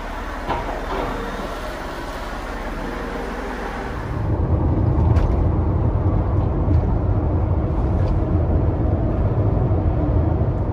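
A red Mercedes-Benz W124 with a fuel leak drives along, its engine a low, steady rumble that grows noticeably louder and heavier partway through, sounding close from inside the car.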